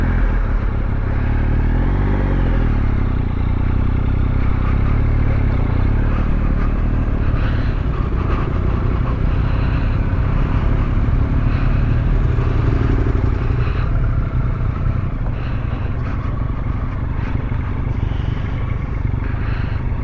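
Adventure motorcycles on a North Yorkshire trail ride, with a steady close engine drone and rumble plus wind and clatter throughout, holding a fairly even pace with no talk.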